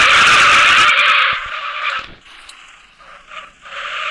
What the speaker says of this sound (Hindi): ड्रिफ्ट बहुत अच्छी तरीके से देता है, थोड़ा सा टच भी नहीं।